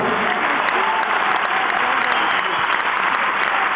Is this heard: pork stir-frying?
no